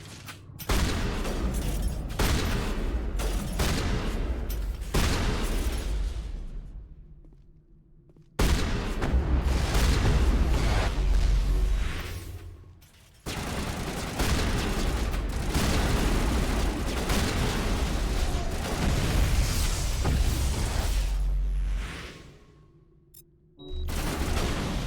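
Rocket explosions and heavy gunfire in the Mass Effect video game, loud booming blasts and crackling shots in long dense bursts separated by short quiet gaps.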